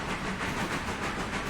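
A steam locomotive rolls along in the railroad game Railroader, a steady hissing, chuffing rumble with a faint rhythmic pulse, heard close and alone.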